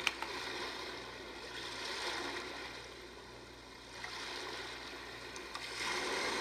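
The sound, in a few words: ocean sound from a white noise sound machine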